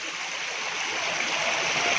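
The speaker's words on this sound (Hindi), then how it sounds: "सामने आबशार है, ये नीचे गिर रही है, समराला टाप से पानी नीचे आ रहा है।" A small waterfall at Samrala pours down with a steady, close, hissing rush of falling water, an unbroken broadband wash that stays loud throughout.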